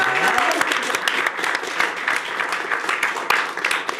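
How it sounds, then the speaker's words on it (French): A studio audience on a French TV debate show breaks into dense, sustained applause, loud and steady, with a bit of voice mixed in at the start. "On peut l'applaudir."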